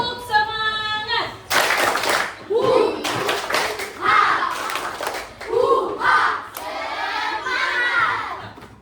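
A standing class performs a rhythmic spirit clap, with bursts of unison clapping alternating with loud chanted group shouts over several beats, preceded by a brief tonal sound.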